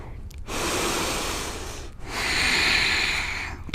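Slow, deep breathing from a yoga instructor during a studio class, a long airy inhale followed by a long breathy exhale, close and steady with no talking.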